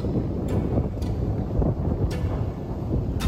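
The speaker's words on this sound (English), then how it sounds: "Look at that wind pick up." Strong wind gusts over a Yukon river during a solo canoe trip, roaring and buffeting the microphone in a continuous rush with brief sharper bursts.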